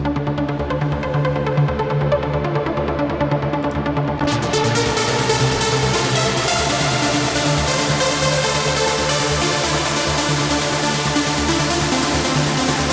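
Two layered synth leads, one heavily detuned in Serum and one reverb-soaked in Spire, play together as a thick, loud, sustained pulsing tone that brightens sharply about a third of the way in and holds steady.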